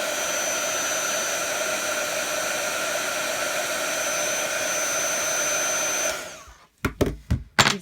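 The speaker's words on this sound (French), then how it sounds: "on peut passer un petit coup de heat gun, histoire de sécher la Stazone" A heat gun blows steadily and loudly while drying Stazone on plastic, a continuous whooshing roar that cuts off about six seconds in, followed by a few brief handling knocks.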